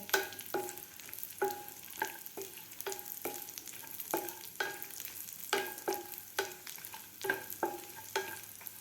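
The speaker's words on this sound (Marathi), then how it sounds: "शेवटी आपल्याला यामध्ये मनुके घालायचे आहेत मनुके शेवटी घालायचे आहेत लवकर फ्राय होतात मनुके" Raisins frying in a pan for traditional wheat kheer, a steady close sizzle punctuated by regular scraping stirs roughly every half second, with no talking.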